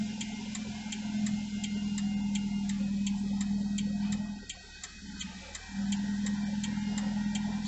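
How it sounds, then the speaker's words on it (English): Bagpipes playing on a street in Scotland, a sustained drone with a bright chanter melody carrying steadily at moderate distance, briefly dipping before swelling back. "It's the first bagpipes I've heard since I've been up in Scotland."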